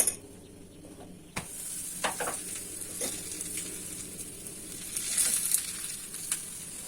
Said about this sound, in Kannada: ನನಗೆ ಎಣ್ಣೆ ಎಲ್ಲಿ ಮುಖಕ್ಕೆ ಸಿಡ್ಬಿಡ್ತು ಅಂತ ಭಯ ಫ್ರೆಂಡ್ಸ್